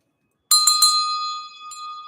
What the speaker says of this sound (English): I'm going to ring the bell and officially commemorate the beginning